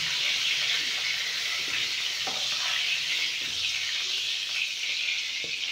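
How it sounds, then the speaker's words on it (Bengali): Pointed gourd (potol) pieces frying in oil in a pan give a steady, close sizzle with a few faint stirring clicks, no talking. "পটলগুলো মোটামুটি ভাজা হয়ে এসেছে, আর একটু ভাজা করব লাল করে"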